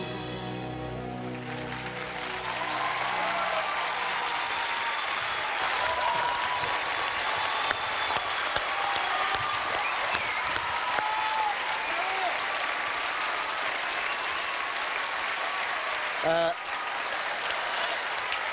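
A television studio audience breaks into sustained, loud applause after a lookalike singer's lip-synced performance, the music cutting off at the start and dense clapping with scattered cheers carrying through to the end.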